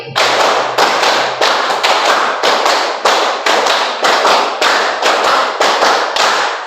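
Students in a maths class clap in a steady counted rhythm, about a dozen loud, crisp bursts of group clapping evenly spaced one after another, close and with no talking over them.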